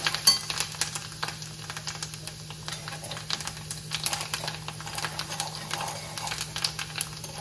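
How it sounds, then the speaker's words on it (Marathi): Coriander and spices sautéing in oil in a pan for Maharashtrian pithla, a soft crackling sizzle with light stirring clicks, steady and fairly quiet throughout. "आता हे छान व्यवस्थित थोडंसं परतून घेऊया"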